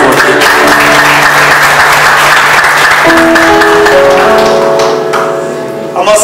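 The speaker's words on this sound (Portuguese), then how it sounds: "Uma salva de palmas, por favor" An audience claps steadily at a church gathering honoring mothers, dense applause continuing loudly throughout with tonal music or voices running underneath, fading slightly near the end.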